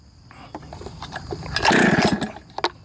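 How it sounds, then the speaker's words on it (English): A Husqvarna 266XP chainsaw engine, built as a waffle saw, idles and then swells into a brief, buzzing rev that fades back down. It is fairly close, with faint clatter around it. "That's a damn good running saw."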